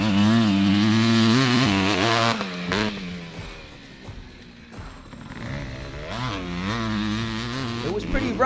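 A big 600cc two-stroke motorcycle on a rough dirt track, its engine loud and close with rising and falling revs, easing off midway before climbing again, with a voice talking over it.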